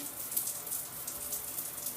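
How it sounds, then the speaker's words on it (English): A shower head on its gentle rain-like setting gives a soft, steady hiss of water spraying, even like light rain, heard close up. "When you turn the knob, this is a more like rain-like gentle spray."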